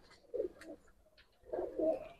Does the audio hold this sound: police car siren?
no